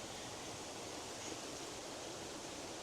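Water in a stream flows steadily through wild hiking country, a continuous close rushing wash that holds even and unbroken from start to finish with no voices.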